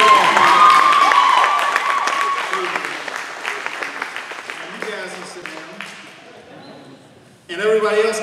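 Graduates at a Christian academy commencement applaud their families, with cheering and a whoop over loud clapping that gradually fades, followed by a voice talking at the end.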